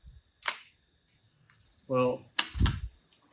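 A Minolta XG9 film camera's shutter fires at a high speed setting, giving sharp mechanical clicks close by amid brief handling noise, with a short spoken word in between.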